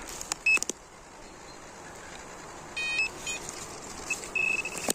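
A metal detector pinpointer gives short high beeps in scattered bursts, some quick and repeated, over quiet outdoor background noise.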